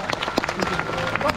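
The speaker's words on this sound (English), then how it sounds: "Give him a big round of applause and well done if you got them right." An audience at a sea lion show at an amusement park gives a short round of applause, a quick patter of claps from the crowd, with a voice briefly heard alongside.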